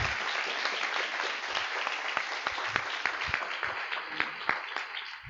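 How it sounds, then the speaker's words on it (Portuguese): A church congregation applauds in a dense, lively burst of clapping, many hands striking close together with sharp individual claps popping out of the steady roar. "Aplauda a Jesús, mi hermano."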